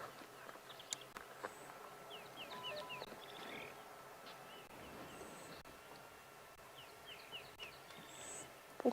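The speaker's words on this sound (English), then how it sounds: "oftentimes when we can hear a chorus like we are now, birds all around us" A chorus of wild birds calls at sunset on an African safari: many scattered chirps, whistles and trills from several directions, mostly moderate to distant, over a soft, steady outdoor background hum.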